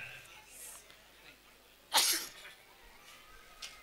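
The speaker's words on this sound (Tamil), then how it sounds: "நான் சின்ன சின்ன தும்மல் வருது" A single sharp sneeze bursts out close by, a quick loud burst standing out against a quiet room with faint background voices.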